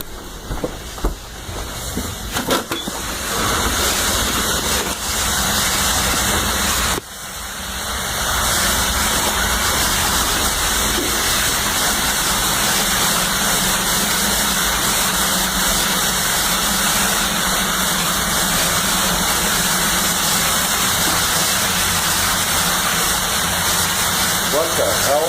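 Submerged heater motor running in floodwater, a steady loud mechanical hum with a gushing, watery wash that holds throughout, briefly cut off once before resuming; a voice speaks faintly beneath.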